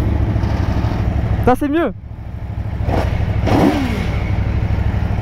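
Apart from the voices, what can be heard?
motorcycle engine revving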